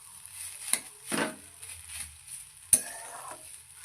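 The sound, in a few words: banana stem (thor) stir-frying in a pan on medium heat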